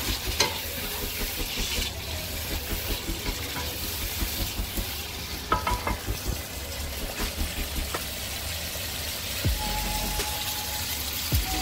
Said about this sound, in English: And then we're gonna put our tuna chops and let it heat together with our ingredients or vegetables